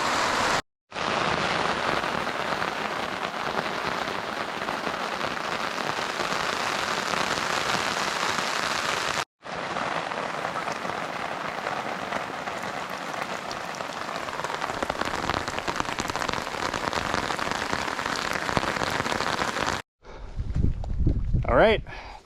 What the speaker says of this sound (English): It's still raining, but it's time to go.